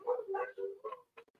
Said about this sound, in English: Oh my gosh, they're howling now.